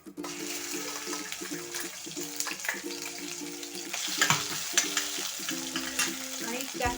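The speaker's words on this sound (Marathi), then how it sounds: "आता आपली कांद्याची पेस्ट याच्यामध्ये टाकणार" Onion paste sizzles and crackles in hot oil in a pan for a raw jackfruit curry, a steady frying hiss with occasional stirring, close and fairly loud, with no talking.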